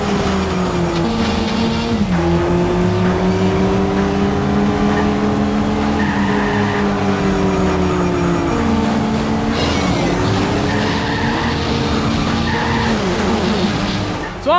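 Racing car engine in the Nintendo DS game Asphalt Urban GT 2, loud and continuous, its pitch rising and falling through gear shifts, with tire squeals and skids over the roar and no talk.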